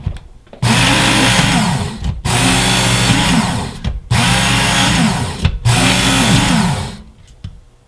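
Work Sharp powered knife sharpener whirring in four bursts as a knife is drawn through, each run a steady motor hum with grinding, separated by short pauses when the motor is off.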